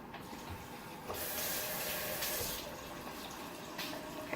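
Steady hiss of running water from a tap, rising in bursts as hands are wetted, with no talking.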